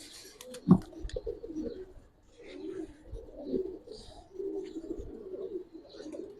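Pigeons, including a male bird, give low, faint, repeated coos in a loft, with one brief sharp sound near the start.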